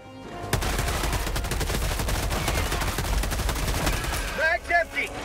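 An AR-23P Liberator Penetrator rifle firing in Helldivers 2, with a fast steady stream of loud close shots that runs almost the whole time and ends in a few ragged bursts.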